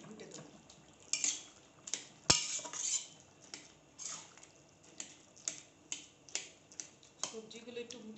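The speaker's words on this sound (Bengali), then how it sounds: "এবার খুন্তি দিয়ে ভালো করে একটুখানি চচ্চড়িটা এইভাবে একটু ঘুটে দেবো।" A spatula stirring a potato, pointed gourd and radish curry in a pan: a run of close, sharp metallic scrapes and clinks at uneven intervals, one louder knock early on, with no talking.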